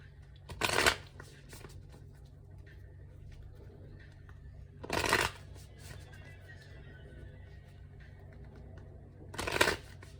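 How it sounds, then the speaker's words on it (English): Tarot cards being shuffled three times, each a short riffling burst separated by several seconds of quiet room hum. "I'm going to go ahead and shuffle just a few more times"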